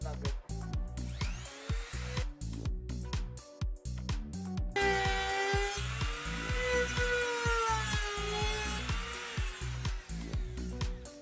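A power tool cuts through a fiberglass rear wheel arch on a BMW E30 being fitted with M3 arches: a continuous high whine under irregular rhythmic chatter, loud and close throughout.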